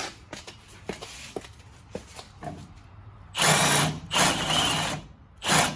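Impact gun tightening the upper control arm nut on a 2009 Chevy 1500 4x4, several loud sustained bursts of rattling power after quieter clicks and taps, heard close with no talk.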